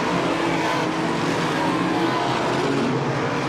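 Modified race cars battling for the lead on an oval track, a loud steady roar of engines, dense and continuous throughout, with no clear individual passes.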